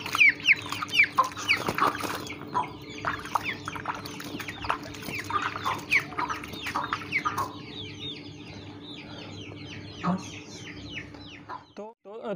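Chicks and hens cluck and peep nervously while being bathed in summer, a dense run of overlapping bird calls close by over a steady low hum, thinning out toward the end.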